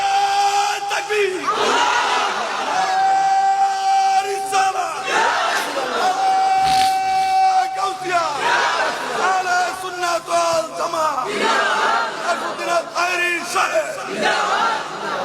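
A large crowd at a Bengali religious gathering roars Allahu Akbar back in unison after a takbir call, loud repeated chanted shouts rising and falling in waves, with amplified voices ringing out between them.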